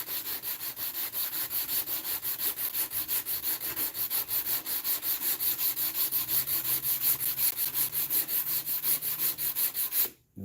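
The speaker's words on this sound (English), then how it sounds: "Now we go back to our heavy grit sandpaper" Wood hand-sanded with heavy-grit sandpaper in steady back-and-forth strokes, a close, loud, rhythmic rasp running for about ten seconds before stopping abruptly, with no talking.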